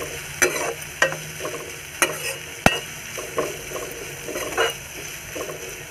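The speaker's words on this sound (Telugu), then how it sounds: "చిటికెడు పసుపు వేసుకొని మిక్స్ అయ్యేలాగా కలుపుకోవాలి." A pinch of turmeric is stirred into a mixture sizzling in a frying pan for ajwain-leaf rice: sharp spatula scrapes land at irregular intervals over a steady, close frying hiss, with no voices.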